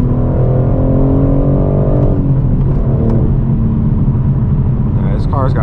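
A BMW M4 G82 with a manual gearbox and full titanium exhaust rises in engine pitch, then the revs drop away to a loud, deep, rumbling idle, heard up close from inside the car, with a voice near the end.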